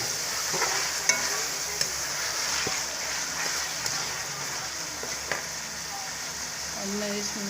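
Chicken liver (kaleji) sizzling in a pan during home cooking, a steady bright frying hiss with occasional sharp clicks and spoon-stirring knocks, close and continuous.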